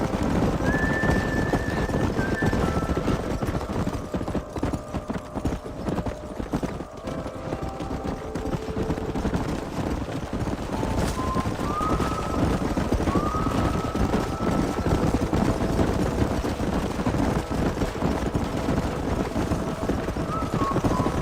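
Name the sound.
horses galloping in video game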